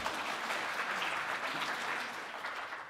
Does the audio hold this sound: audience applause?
yes